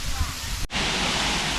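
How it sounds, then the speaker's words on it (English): A man-made waterfall in a park gives a steady, loud broadband rush of falling water, briefly cut off before resuming just as strong. "So there's another waterfall."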